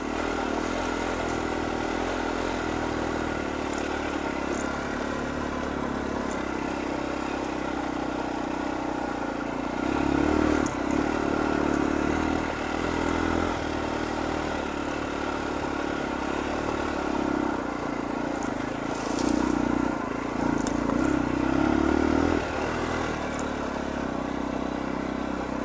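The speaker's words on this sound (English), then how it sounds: "Who says a big bike can't go off-road?" A big motorcycle rides off-road into a woodland camp, its engine droning steadily close by. The engine swells with louder revs several times and rattles over rough ground, with no voices.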